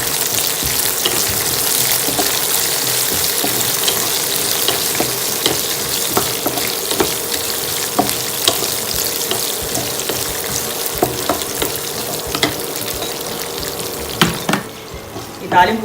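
Tempering of ginger, peanuts and curry leaves sizzles and crackles steadily in hot oil for flattened-rice pulihora, a loud, continuous fry close to the pan with occasional stirring clicks.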